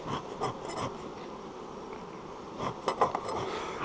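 A steady, dense buzz of many honey bees from an opened hive box, fairly close, swelling slightly in a few brief bursts.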